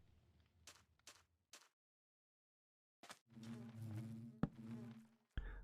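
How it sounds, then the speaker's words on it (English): Buzzing bees in a farming and building video game at a bee farm among flowers, heard as a few short buzzy bursts followed by a longer, louder droning hum with a sharp click near the end. "There are definitely bees in some of these."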